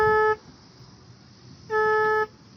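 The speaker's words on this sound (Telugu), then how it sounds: "ఏందిరా హార్న్ వస్తుంది స్టార్ట్ చేస్తా ఉంటా?" A vehicle horn sounds twice while someone tries to start a vehicle with a dead engine: one steady, loud toot of about a third of a second, then a pause, then a second toot about half a second long.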